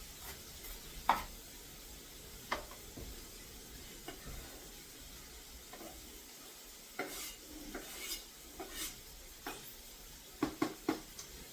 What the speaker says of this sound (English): And then I'm going to saute the rest of the vegetables.